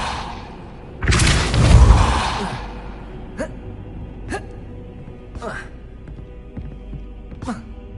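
A Repulso spell cast in Hogwarts Legacy: a loud, roaring magical burst that swells and fades over about a second and a half, followed by several soft, sharp ticks and thuds at a steady pace.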